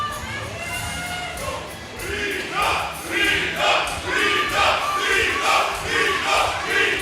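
Crowd at a European senior arm wrestling championship final shouting and cheering in rhythmic bursts, rising in loudness and repeating roughly every half second.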